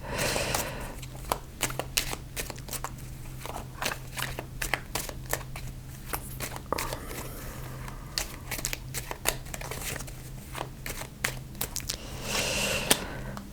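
Tarot cards are shuffled and drawn close up, a steady run of crisp riffling flicks and papery slaps over a faint constant hum, with a brief louder snap near the end.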